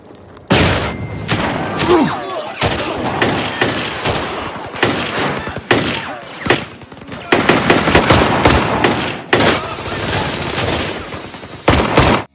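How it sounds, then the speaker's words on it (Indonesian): A film shootout brings dense bursts of automatic gunfire and single heavy shots, loud and close. The shots come in rapid clusters separated by brief pauses, with booming impacts mixed in. "baku tembak pun terjadi di antara mereka"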